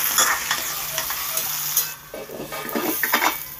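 Potatoes frying in a pan with salt and turmeric, a steady sizzle broken by repeated scrapes and clinks of a spatula stirring against the pan, close by with no speech.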